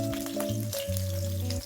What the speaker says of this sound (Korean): 팬에 식용유를 넣고 반죽을 넣어줍니다